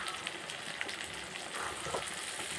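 Onion, ginger-garlic paste, chopped tomato, chilli and turmeric powder fry in oil for a home-style tilapia curry, giving a steady, close, even sizzle with faint bubbling that never lets up and has no talk over it.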